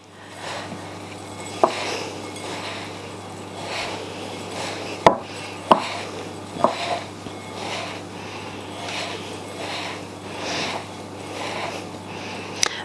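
Crumble topping with demerara sugar mixed and pressed together by hand in a bowl: soft repeated rubbing and gritty swishes with a few sharp knocks against the bowl, close and without talk.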